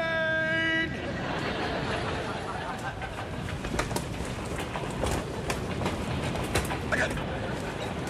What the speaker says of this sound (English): Incoming train!